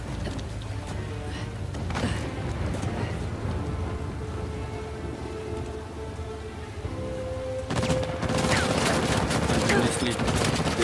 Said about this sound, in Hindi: देखा इसकी फायरिंग कितनी फास्ट है